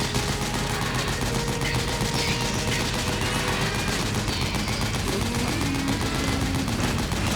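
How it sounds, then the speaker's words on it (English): Dense, continuous gunfire in the stealth-action game Metal Gear Solid 4, a steady rattle of rapid shots with a busy mix of battle noise and music that never lets up, with no talking. "Let's shoot the closer one."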